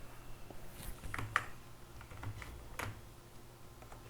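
A few faint, scattered computer keyboard presses and mouse clicks tap irregularly in a quiet room, with no talking.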